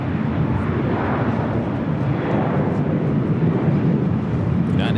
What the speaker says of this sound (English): United Dreamliner, short funnel for 24 right.